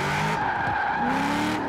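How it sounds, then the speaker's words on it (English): Tires squeal continuously as a Chevrolet Nova drag car drifts in Forza Horizon 4, driven with a steering wheel, a loud, close, sustained screech with engine noise beneath it. "I was trying to drift a drag car like..."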